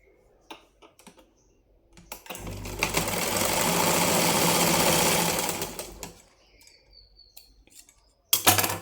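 A sewing machine stitches the front piece of a lined blouse in one steady run of about four seconds. Fast, even mechanical whirring stands out loud and close, framed by quiet clicks and fabric handling before and after.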